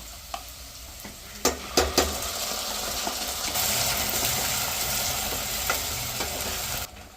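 Masala paste for mutton biryani frying in a pan and being stirred, with a few sharp utensil clinks early on, then a continuous loud, close sizzle that cuts off abruptly near the end.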